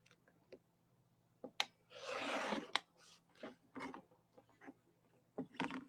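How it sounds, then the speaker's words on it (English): Scissors trimming fabric along a stitch line on a quilted bench project: quiet, scattered snips and crisp cuts with one longer rustling stretch, close and fairly faint. "So we're going to trim these. So I'm trying to cut right on the little stitch line."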